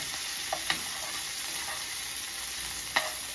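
Steak sizzles in butter in a hot pan with a constant close hiss, broken by a few brief clicks and scrapes as it is pushed around.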